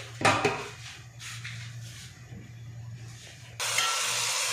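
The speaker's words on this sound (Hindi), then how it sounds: "अभी प्याज डाल रहे हैं तेल के अंदर" A few metal clanks of a wok, then a sudden burst of steady sizzling as onions hit hot oil near the end.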